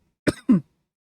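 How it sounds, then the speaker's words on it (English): Two short, close coughs in quick succession, one sharp and one slightly longer, heard alone in an otherwise silent moment. "you're making me cough"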